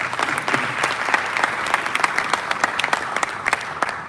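Dense, continuous audience applause at an African development conference, a full room clapping steadily and loudly throughout with no voices over it.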